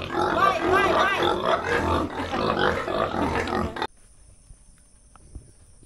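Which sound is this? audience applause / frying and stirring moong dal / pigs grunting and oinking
pigs grunting and oinking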